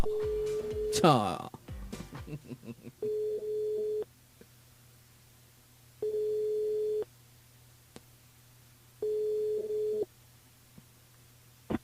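Telephone line tones on a radio phone-in call: a garbled dialing burst at the start, then a steady tone pulsing in regular one-second bursts separated by silences, clear and fairly loud.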